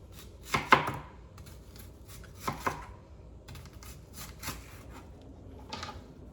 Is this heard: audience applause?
no